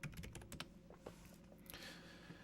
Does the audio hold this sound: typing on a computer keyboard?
yes